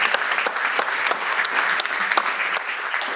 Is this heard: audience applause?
yes